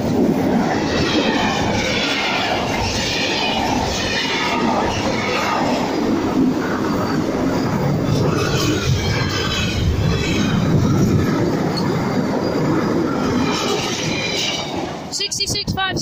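Class 66 freight locomotive 66571 passing Romanby Road level crossing, a loud sustained roar of engine and rolling wagons with rhythmic wheel clatter, close by, fading slightly near the end.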